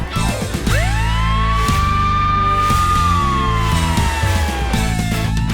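A cartoon fire engine siren wails in a children's song, sweeping up and then sliding slowly down, over a bouncy musical backing with a steady beat.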